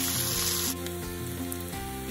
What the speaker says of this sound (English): Sizzling, I'm adding 1 medium-sized onion, coarsely chopped.